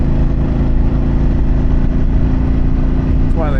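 A Harley-Davidson Pan America motorcycle fitted with an Akrapovic exhaust, ridden on a country road: a loud, steady engine drone with heavy wind rush, continuous and close throughout.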